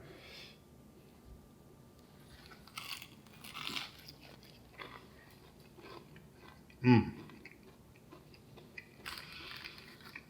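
Someone bites into crispy gluten-free fried chicken, giving one loud, close crunch amid soft chewing and small mouth noises in a quiet room.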